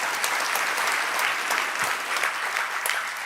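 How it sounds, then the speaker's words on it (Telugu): A church congregation bursts into sustained applause during a sermon, a dense, even wash of many hands clapping close by with no break. "చప్పట్లు కొట్టాలనిపించలేదా?"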